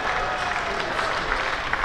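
Cricket crowd at a Hampshire v Middlesex County Championship match applauding a driven boundary, steady broad clapping from a large distant crowd throughout, even and sustained.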